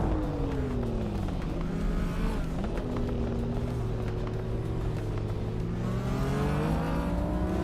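A 1982 Lancia 037 Stradale engine in a racing game, holding a loud steady drone with gliding harmonic pitch that dips and climbs through gear changes, continuous and close.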